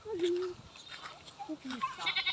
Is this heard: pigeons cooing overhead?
no